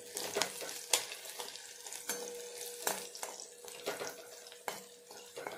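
Green chillies fry in a pan, giving a soft continuous sizzle broken by intermittent crackles and spatters; the sound stays quiet and close with no voices.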